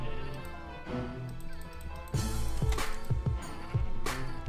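Sheep bleat repeatedly in the video game Minecraft, several wavering calls over a background of game music, with no talking.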